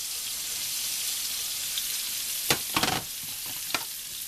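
Mushrooms fry in a pan for a veggie omelette, giving a steady close hiss of sizzling with a few brief scraping bursts of stirring partway through.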